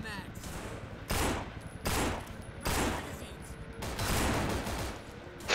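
Gunfire in the zombie shooter No More Room in Hell on a Chinatown server with unlimited ammo: several loud bursts of rapid shots separated by short pauses, with faint talk in the background.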